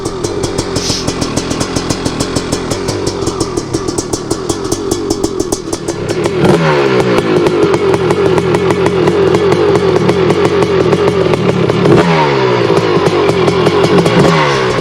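A 250R dirt vehicle engine idles while warming up on a cool day, a loud steady close-up buzzing putter with a slight rise in pitch and level partway through, running alone without talk.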